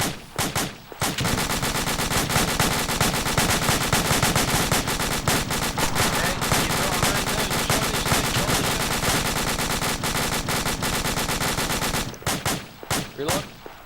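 Rapid automatic gunfire during a fireteam drill, a long sustained stream of close, loud shots with short sporadic bursts at the start and end.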